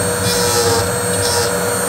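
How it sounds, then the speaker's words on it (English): A Dremel rotary tool grinds a small model part, a close, continuous high-pitched buzzing whir with slight pulses in pitch as it bears down, alone without talk. "I could do terrible things with this Dremel tool if I'm not careful"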